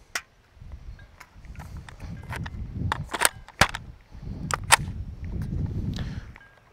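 Pistol fired in a Recover Tactical P-IX+ chassis: about eight sharp, irregularly spaced shots at a range, each a brief crack over a steady low background rumble.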